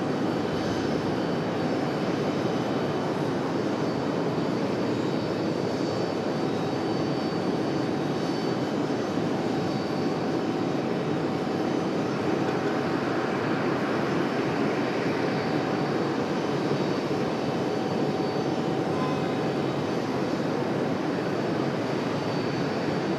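An American Airlines jet taking off from runway 23 right at Raleigh-Durham, a steady loud roar of engines that holds constant throughout, heard from a distance with no voices.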